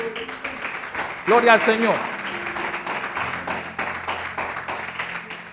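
A church congregation clapping during a sermon, a patter of applause running under a voice calling out in Spanish.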